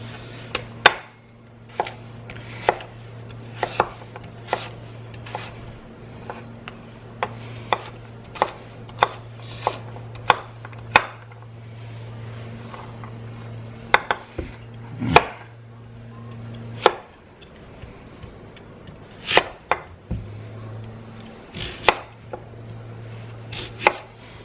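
Sharp kitchen knife chopping vegetables for vegetarian chili on a cutting board, a steady run of crisp close knocks over a low hum.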